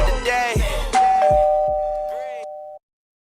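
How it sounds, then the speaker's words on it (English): A two-tone doorbell chime rings out clearly, with a sustained ringing tail, right after a burst of talk on a live chat-and-draw show; voices overlap the start of the chime. "I was waiting for that ding dong."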